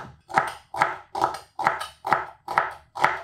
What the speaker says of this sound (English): And we need to slice the celery.